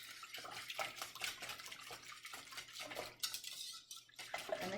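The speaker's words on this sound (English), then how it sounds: "I mix it up." Gluten-free pancake batter is whisked in a bowl with rapid, steady metallic scraping and wet sloshing, close and continuous for several seconds, with no speech.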